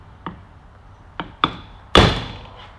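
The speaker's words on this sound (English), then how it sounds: "Bigger hammer." A hammer strikes a tapered roller bearing race on a 1997 Nissan D21 Hardbody pickup's 4WD, four separate metallic blows close by, the last one the heaviest with a ringing decay.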